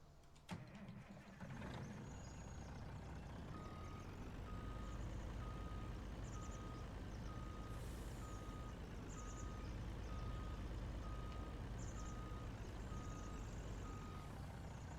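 Logging truck in a video game backing up, its reversing alarm beeping steadily at an even rhythm over a loud continuous engine rumble, with a brief starting burst near the beginning.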